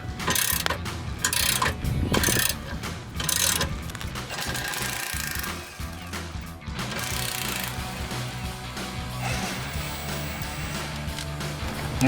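A hand ratchet with a 15mm socket clicks steadily while it loosens rear bumper bolts on a Jeep Gladiator JT, with close, continuous pawl ticking and no talk.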